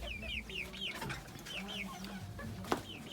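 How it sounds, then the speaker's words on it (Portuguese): Chickens in a backyard coop cluck and make short rising calls, several birds vocalising close by in irregular bursts over a low background, with one sharp knock near the end. "Galinheiro aqui em cima. Também tenho essa galinha."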